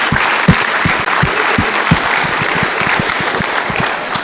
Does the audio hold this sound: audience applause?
yes